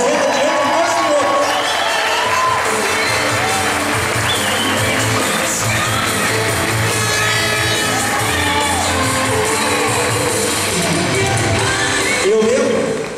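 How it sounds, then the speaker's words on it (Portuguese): A large crowd cheers, whoops and claps continuously, loud and dense throughout, with shouting voices layered over the applause. "quero solenemente solicitar uma salva de palmas para o professor Alexandre Abreu"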